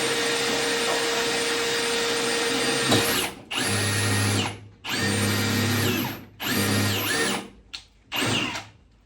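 A power drill whines loudly at first, then runs in several short bursts separated by brief pauses, close to the microphone.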